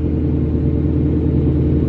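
A car engine running without headers gives a deep, steady rumble, loud and close, with no voices over it.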